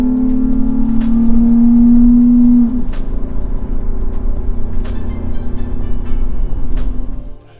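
A Toyota 4Runner fitted with an S&B intake is pushed hard, its engine rising in a loud strained drone for almost three seconds, then dropping to a lower steady hum before fading out abruptly.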